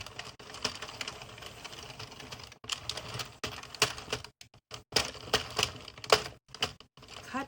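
Sentro 22-pin knitting machine cranked through panel rows of black yarn, a fast clattering of plastic ratchet clicks close up, with a couple of brief pauses between bursts.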